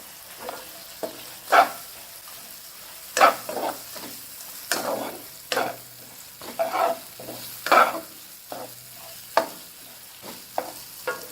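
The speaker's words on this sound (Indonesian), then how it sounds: "kita tumis hingga wangi." Bay leaves and lime leaves are stir-fried in oil for Padang crab sauce, a low sizzle punctuated by repeated scraping strokes of a spatula against the pan at an uneven rhythm, close by and without talk.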